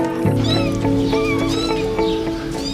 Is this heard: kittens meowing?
yes